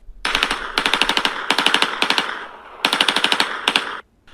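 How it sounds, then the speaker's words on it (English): AK-47 fire aimed at the Batmobile comes in three loud bursts of rapid automatic shots, each lasting about a second, separated by brief pauses. "So the men grabbed their AK-47 and opened the back of the van and began shooting at the Batmobile."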